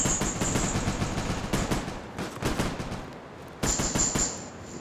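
Cartoon battle gunfire from an animated episode, rapid machine-gun style bursts rattling continuously at a loud, close level, with a brief lull before another sharp volley.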